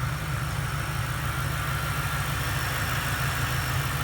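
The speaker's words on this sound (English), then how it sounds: "This is a 2001 Lincoln Continental with an Intech 32 valve V8." A 2001 Lincoln Continental's Intech 32-valve V8 idles steadily with a throaty, low rumble, its muffler torn off after a rear collision. The engine is close and loud, with an even pulsing rhythm throughout and no speech.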